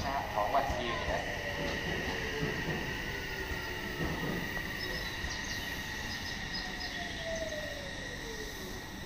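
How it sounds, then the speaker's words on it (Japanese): An Odakyu Line local train pulls into Shin-Yurigaoka station with a faint, distant rumble and falling tones of braking, under a station platform announcement and insect chirping. "一番ホーム参りました電車は16時4分発各駅停車本厚木行きです"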